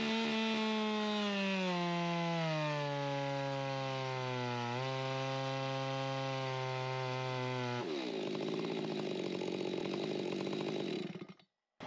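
A ported Stihl MS 400.1 chainsaw fitted with an aftermarket muffler cover runs loud and steady as it cuts through wood, its pitch sagging under load for several seconds before the tone changes near the end, then cuts off.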